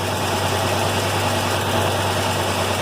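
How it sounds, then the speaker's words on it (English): A truck engine with a misfire idles in a steady low rumble with a slightly uneven, rough beat, close by and continuous. "It has an engine miss."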